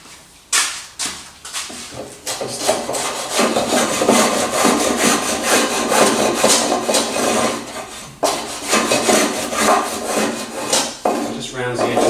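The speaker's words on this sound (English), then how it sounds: "So all I'm going to do now is just plane this top edge on the outside" A hand plane shaving the top edge of a wooden table top in repeated rhythmic strokes, each a rasping swish of blade on wood, loud and close with short pauses between passes.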